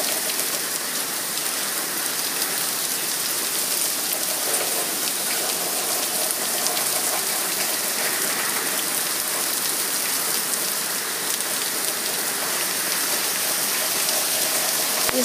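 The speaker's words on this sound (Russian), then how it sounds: "дождь барабанит по крышам" Steady heavy rain from a hurricane drums on a roof in America, a dense, continuous hiss of drops without pause, loud and close.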